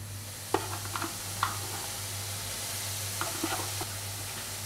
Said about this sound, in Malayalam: ഇതിലേക്ക് ഞാൻ ഗ്രേറ്റ് ചെയ്ത് വെച്ചിരിക്കുന്ന അല്ലെങ്കിൽ അരിഞ്ഞ് വെച്ചിരിക്കുന്ന ക്യാരറ്റ് ഇതിലേക്ക് ഇട്ട് കൊടുക്കുക